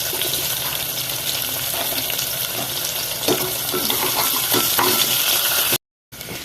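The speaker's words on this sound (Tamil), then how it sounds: "வெங்காயம் வதங்கணும்" Onions sautéing in a pan for paneer biryani, an even close sizzle with scattered spatula scrapes and stirring clicks, cut by a brief dropout near the end.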